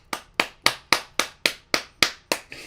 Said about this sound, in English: They clap for the sunrise.